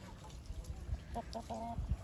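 Chickens cluck softly in a backyard coop during hot weather, a few short low clucks near the end over faint background noise.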